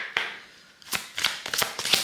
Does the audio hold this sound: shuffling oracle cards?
yes